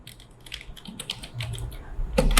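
Keys clatter in quick irregular bursts on a computer keyboard while a class spreadsheet is being labelled, close and fairly loud with no voices, ending in a louder flurry of presses.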